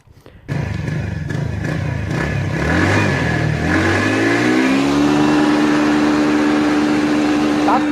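A TVS Ntorq 125 Race Edition scooter starts and its 125 cc engine revs up close, pitch climbing through several rising sweeps before settling into a loud, steady high idle.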